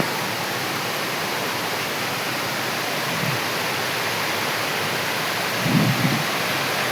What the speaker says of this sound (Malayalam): ഇപ്പൊ മഴ കുറവായത് കാരണം വെള്ളം ഒഴുക്ക് കുറവാണ്